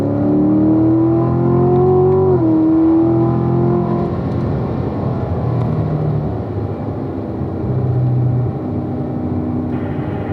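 A Corvette Grand Sport on a race track pulls hard, its engine note climbing before a quick upshift and then droning on at a lower, steadier pitch with lighter throttle, loud and close throughout.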